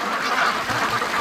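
Ducks quacking at a creek, a brief burst of raspy calls close by.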